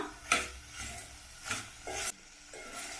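Sprouted moth beans being stirred in a hot tempering for a North Karnataka style curry, with several distinct scraping strokes of a spoon against the pan over a soft sizzle, and no talking.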